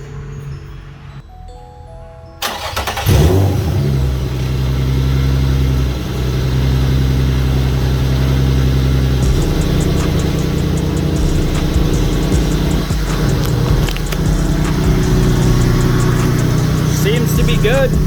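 A car engine cranks and fires after spark plug and coil work, then settles into a loud, steady idle close by, with a person talking over the running engine.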